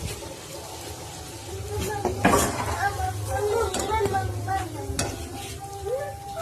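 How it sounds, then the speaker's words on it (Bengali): Pea-stuffed kachori frying in hot oil, a steady sizzle with stirring and scraping sounds from the pan, close and moderately loud, with brief talk over it. "এবার আমি কচুরিটা ভাজতে নিয়েছি।"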